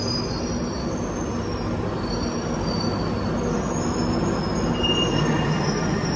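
A London Underground train pulls into a platform on the Mill Hill East branch, a steady loud rumble of wheels with high squealing tones drifting over the roar, nobody speaking.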